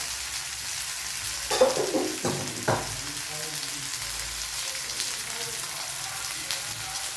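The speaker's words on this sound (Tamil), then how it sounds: "இது நல்லா ஃப்ரை ஆகட்டும்." Masala-coated fish fries in oil in a pan with a steady, close crackling sizzle, a few louder pops and spatters early on, then settles into an even hiss.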